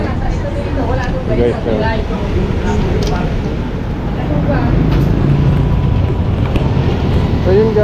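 A Sky Drive 125 motorcycle, just back from a carburetor cleaning and air filter change, runs with a steady low rumble. A voice talks over the engine and there is some wind noise.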